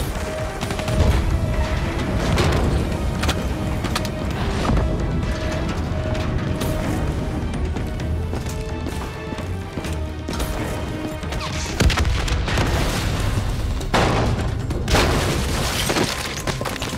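Explosions from a bombing run on a refinery in Black Ops 3, mission Sand Castle, keep crashing and booming without pause for the whole stretch, with heavy rumbling blasts and sharp cracks. No one speaks.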